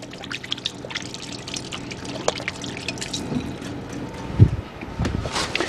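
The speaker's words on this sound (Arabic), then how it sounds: "بس غسل ايدي" Hands are washed under running water at a TV kitchen counter during salad prep, heard as a soft, steady trickle with faint splashes and drips, fairly quiet and close.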